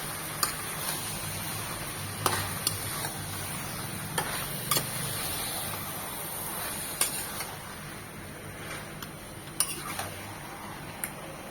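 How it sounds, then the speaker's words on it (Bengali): Goat mutton frying in a pan while being stirred, a steady close sizzle broken by scattered sharp clicks and scrapes of a utensil against the pan. "মাংসটা মিনিমাম দশ থেকে পনেরো মিনিট কষবে দশ মিনিট পর আমি অবশ্য মাঝে আরেকবার নেড়ে দিয়েছি"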